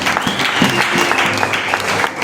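A church congregation breaks into steady applause, dense clapping filling the space for a couple of seconds, fairly loud and close, with faint voices mixed underneath.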